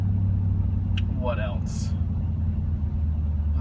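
A 2015 Ram R/T truck fitted with a Borla exhaust gives a steady, deep engine rumble throughout, sitting under a man's close, conversational voice.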